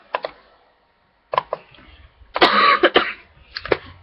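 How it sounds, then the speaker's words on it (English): A person with a bad cough lets out several short, sharp coughs and throat-clearing bursts in close succession, close and fairly loud, with a brief silent gap near the start. "I just have this really bad cough"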